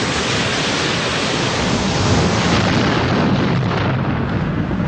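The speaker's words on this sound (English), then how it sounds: "These erupt when magma below forces its escape. Fueled by expanding gases and boiled groundwater, the excess heat blasts through." A volcanic eruption blast gives a loud, steady broadband roar that holds at full strength the whole way through, with no pauses and no voices.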